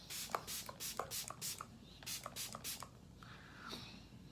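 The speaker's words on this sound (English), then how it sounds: "Setting spray, all you gotta do, now, let's sit back, spray, and that's it." MAC makeup setting spray misted onto the face in a series of short, soft, close hissing bursts, quiet and with brief pauses between them.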